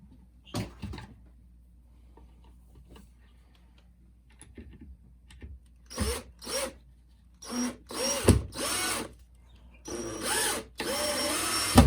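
A power drill drives screws into a pine soil block tray with a plywood bottom, giving several short whirring bursts that grow longer and closer together, ending in a sustained run, after quiet handling clicks.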